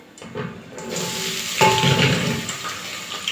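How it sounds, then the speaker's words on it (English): Chopped onions drop into a hot pan for an African dish and start sizzling, a steady close-up hiss with crackle that swells after a second soft clatter of ingredients. "So right now we want to fry the vegetables."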